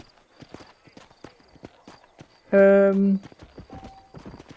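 Rhythmic hoofbeats of a horse in Red Dead Redemption clop along steadily while a person talks, and the horse briefly neighs loudly partway through.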